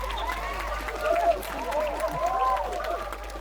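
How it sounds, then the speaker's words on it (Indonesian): An audience at a children's musical theater show about Indonesian rupiah currency breaks into brief, moderate applause, with chattering voices and calls mixed into the clapping. "Tepuk tangan."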